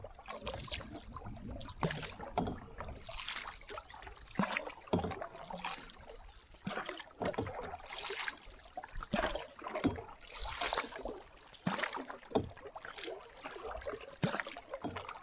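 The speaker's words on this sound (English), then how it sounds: "He's just paddling over now." Kayak paddle strokes dip and splash through water in a steady, uneven rhythm, fairly close, with a soft watery wash between strokes and no voices.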